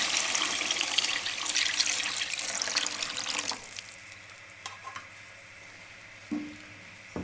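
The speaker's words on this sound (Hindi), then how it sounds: "अब इसमें मैं 2 कप पानी डाल रही हूँ।" Two cups of water pour steadily into a pot of masala gravy for a potato and egg curry, a rushing splash for a few seconds that stops abruptly, followed by quiet pot clinks.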